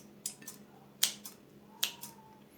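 A knife cutting food into small pieces for Turkish iskender, giving a few sharp, brief cutting sounds spaced irregularly, close and fairly quiet, with no talking.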